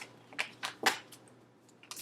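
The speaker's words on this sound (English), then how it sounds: "Last shuffle." Crisp riffling bursts of cards being shuffled, several quick flurries in a quiet room, close and fairly soft.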